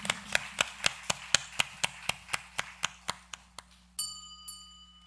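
A church congregation clapping in unison during a Sunday service, a quiet, even run of sharp claps at a steady brisk beat, ending with a ringing chime-like tone after the claps stop.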